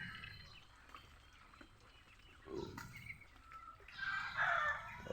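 Ducks penned in a small enclosure quacking, scattered calls with a louder burst near the end over a faint rustling background, no speech.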